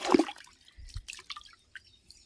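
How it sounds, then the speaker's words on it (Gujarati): Water splashes into a new cattle trough of a stable's automatic watering system with a brief gush, followed by scattered drips and small gurgles. "આપણું નવા કુંડામાં પાણી આવ્યું"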